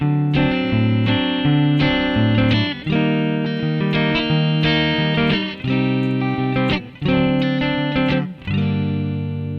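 Distorted electric guitar plays a bluegrass fiddle tune, Big Sciota, recast in harmonic minor as a metal-style melody: a steady run of sustained, saturated notes with short breaks, loud and close, alone without talk.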